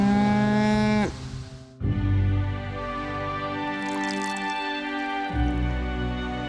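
Cattle on a farm moo loudly close by, one long low bellow cutting off, then another sustained moo rising after a brief pause, with no talk over it.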